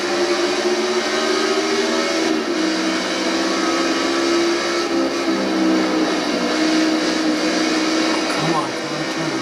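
A pack of NASCAR race cars at the green flag start at Homestead in NASCAR '15, a loud, dense engine roar that holds steady with the revs rising and falling, and a voice talking over it.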